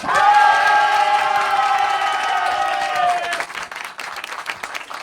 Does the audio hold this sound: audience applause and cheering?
yes